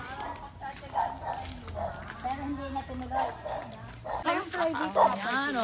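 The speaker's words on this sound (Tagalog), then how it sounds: "Oh, galit na galit ang mga aso." Several dogs bark agitatedly beside a river in rural Alfonso, Cavite, the harsh barks recurring over a steady background while people talk throughout.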